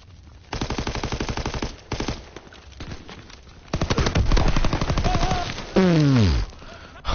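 Rapid automatic gunfire bursts from a World War II shooter game, Call of Duty WWII, loud and close in several volleys, with a falling whistle-like tone near the end and a voice talking between shots.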